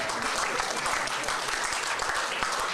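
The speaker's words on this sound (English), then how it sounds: "give her a round of applause for that" Dense, steady clapping from a crowd at a press conference fills the whole stretch, loud and continuous without pause.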